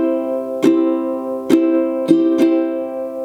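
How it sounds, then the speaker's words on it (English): Ukulele strumming a pattern with the first up strum left out: four crisp strums in an uneven rhythm, each chord ringing on between them, close and clear with no talking. "So if we eliminate the first up strum, the pattern will sound like this."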